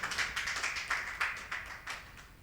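Audience applause welcoming a guest at a mushaira poetry gathering, a soft, thin patter of clapping rising and falling in several quick bursts, fairly distant and light.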